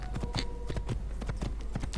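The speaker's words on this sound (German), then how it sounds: "Und auf aufs Pferd und auf und davon." Horse hooves clip-clop in steady, fairly loud repeated beats as a mount rides off in Assassin's Creed, with a faint background bed and no talk.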